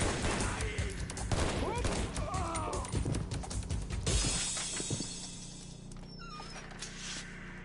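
Rapid gunfire from the video game Shadow Ops: Red Mercury rattles in dense bursts with shattering impacts, loud and busy, then drops to quieter game sounds and brief electronic chirps.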